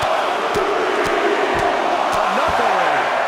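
A WWE 2K23 wrestling crowd roaring on its feet, a dense loud sustained cheer with a few sharp thuds and slams breaking through at regular intervals.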